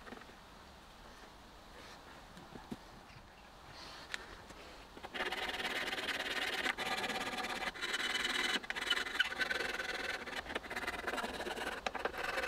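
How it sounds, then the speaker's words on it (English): Hand filing on an acoustic guitar preamp housing, a steady close rasping scrape that starts quietly and grows louder and continuous halfway through, with no talking. "it's well worth doing it manually with a file"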